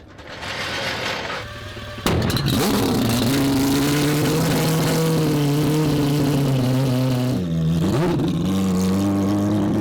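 AWD four-rotor Mazda RX-7 race car on a road course track, its engine revving loud and close in a sustained, rising roar with a sharp gear shift near the end, no talk.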